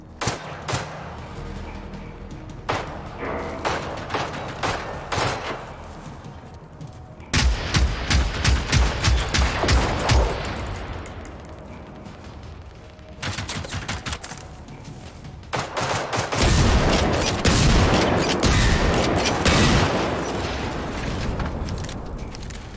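Shotgun blasts in the video game Generation Zero, fired in rapid irregular bursts of loud booming shots, with sharp reports clustered across several stretches and brief pauses between volleys.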